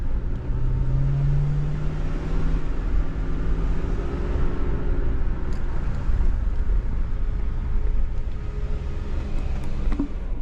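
A 2000 Lincoln Town Car idling in drive with a transmission that won't shift, a steady low engine drone with a faint whine rising and falling, heard from nearby.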